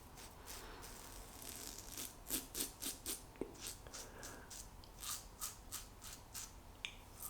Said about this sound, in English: cross the growth using the Wilkinson Sword Classic plastic handle metal head